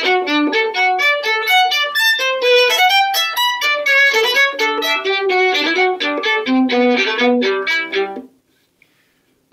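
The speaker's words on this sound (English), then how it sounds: "So I've chosen to do all of those measures without a slur, every note detached." A solo viola plays a passage from Bach's sixth cello suite with every note bowed separately, a rapid, even stream of detached notes, close and loud, stopping abruptly into near silence.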